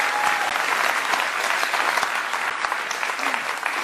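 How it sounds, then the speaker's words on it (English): A conference audience gives a steady, dense round of applause after a panel speaker's remarks on equality and diversity, the clapping close and loud and sustained throughout. "So I think that definitely deserves a round of applause."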